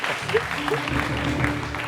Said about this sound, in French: Nous allons applaudir ces points, s'il vous plaît.